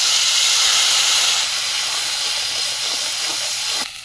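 Panch phoron spices dropped into hot oil left from frying fish, cooked in a village kitchen: a loud, dense hissing sizzle fills the whole span, easing slightly partway through and dropping off near the end.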